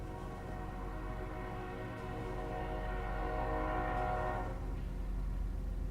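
Trains in the factory-building video game Factorio rumble past with a sustained horn-like tone that swells and then fades, steady and moderately loud with no talk.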